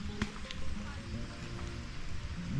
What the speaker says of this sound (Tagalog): Hirang ulan to.